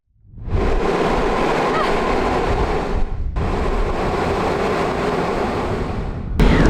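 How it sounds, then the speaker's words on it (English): A sea blowhole on the coast of Spain gives two long, steady rushing bursts of air, like a deep exhalation from the sea, with a short pause between them and a third beginning at the end. "You hear the sea breathing so much, and the wind going out of it is so cool too."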